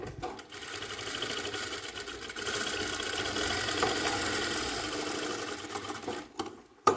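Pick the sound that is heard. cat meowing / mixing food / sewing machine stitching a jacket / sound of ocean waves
sewing machine stitching a jacket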